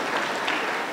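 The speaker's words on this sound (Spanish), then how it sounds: "Aplauso para el Señor Jesús." Church congregation applauding during a service, a dense steady wash of many hands clapping at moderate loudness for about a second, with no talk over it.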